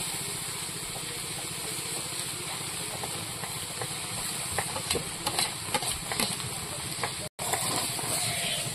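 Shrimp frying in hot oil in a home kitchen pan, giving a steady close sizzle and hiss with light crackles and stirring clinks throughout.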